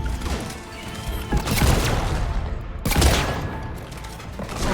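An Eviscerator shotgun fires in the video game Mass Effect 3, two heavy booming blasts about a second and a half apart, loud over a constant rumble of combat.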